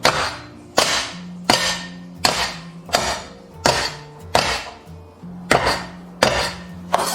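A flat kitchen knife blade smacks down on a small handful of garlic cloves again and again, about ten sharp, loud whacks at a fairly even rhythm, each ringing briefly before the next.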